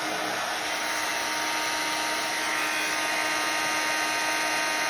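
A heat gun blows steadily on glued-on WoodUbend moulding to soften and loosen it, giving a continuous, even whooshing whir close by with no pauses.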